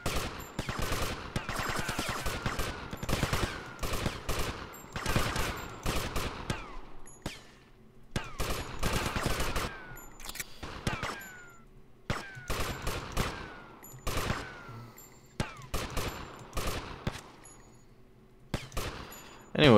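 Rapid gunfire in GTA Vice City crackles in repeated bursts of shots, with brief pauses between clusters, sustained over about twenty seconds at a moderate level.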